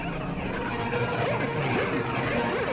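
Griever creature from the video game Metroid Prime 4: Beyond, giving off a warbling, whinny-like electronic cry with repeated rising and falling wails over a steady humming backdrop, moderately loud and continuous.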